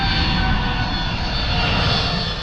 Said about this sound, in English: It takes 8 minutes for the plane to fall to Earth.